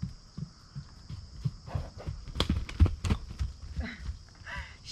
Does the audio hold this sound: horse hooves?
yes